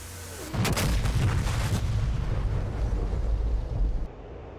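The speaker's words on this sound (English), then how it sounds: "Massive blast." Bombs dropped by an F-15E Strike Eagle on a port in the DCS World combat flight simulator land with a sudden heavy blast, and a deep, sustained rumbling roar follows for several seconds before cutting off.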